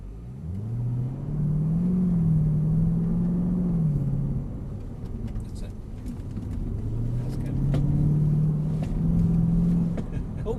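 A Mercedes-AMG car accelerates hard through a driving course, its engine note climbing in two long revving pulls, with people talking over the steady rumble inside the cabin.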